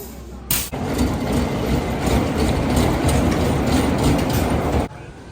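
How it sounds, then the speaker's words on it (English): The Renegade wooden roller coaster train at Valleyfair thunders past, a sudden onset followed by about four seconds of loud, steady rumbling and clattering before it cuts off sharply. "Let's see if the train's gonna fly by or not."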